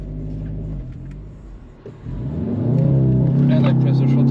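The engine of a yellow Audi TTS holding revs under launch control dips briefly, then climbs into a loud, rising rev that settles into a steady, droning hold close by.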